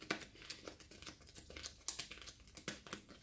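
A deck of Hero Realms game cards is shuffled, giving quiet, close papery riffles and crinkly flicks in quick irregular bursts.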